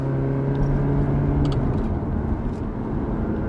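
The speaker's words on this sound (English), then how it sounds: "definitely a higher revving car, right?" A high-revving mid-engine Italian sports car with a manual gearbox and an 8,500 rpm redline, its engine giving a steady, close, continuous drone with no voices.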